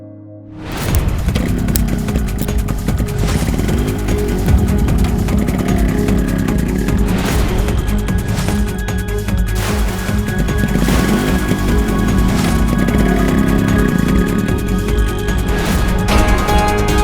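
A motorcycle arrives, its engine starting abruptly and then running steadily with a revving mid-range drone and a faint whine over the rest of the stretch.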